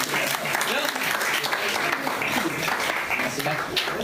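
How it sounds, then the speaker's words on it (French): Audience applause for the first presenter at a French business-opportunity meeting, steady dense clapping throughout with voices murmuring and talking over it. "Alors on applaudit, c'est le premier, c'est le plus courageux"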